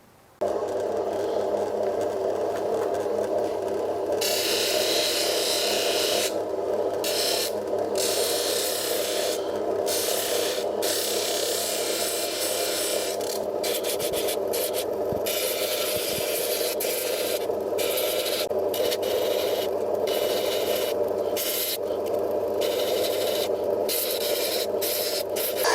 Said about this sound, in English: we'll go to our first wheel, which will be a 140, and we'll just iron out all of the rough ridges